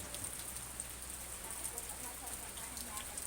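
Steady rain at Ban Thap Luang in Nakhon Pathom, Thailand, falling on surfaces as a dense, even hiss with scattered close drops, continuous and unbroken, with no voices.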